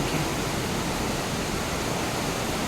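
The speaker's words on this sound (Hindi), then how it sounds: "देखिए ये देखिए पानी कैसे चल रहा है।" Heavy rain from a violent storm pours outside a fourth-floor room, a loud, constant rushing hiss of falling and running water with no pauses and no voices.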